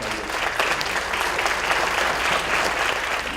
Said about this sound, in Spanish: Recibamos con un aplauso a Silvio